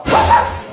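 A person imitates a dog barking: one loud, close, yappy bark-like yelp from a human voice.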